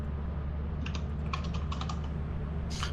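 Loud clatter of computer keyboard typing in a short burst of keystrokes, close and clear over a steady low background hum, with no talking.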